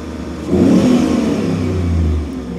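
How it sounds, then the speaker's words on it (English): A V8 car engine misfiring on one cylinder bank revs up slowly and holds at higher RPM, a close, steady rough drone without speech. "Slowly raise the RPMs up."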